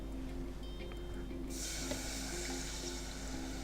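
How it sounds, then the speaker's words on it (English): Water runs into a pan for churro dough, a quiet tap-like hiss that swells midway and continues steadily under a faint low hum. "To start things off, we need to get our water in."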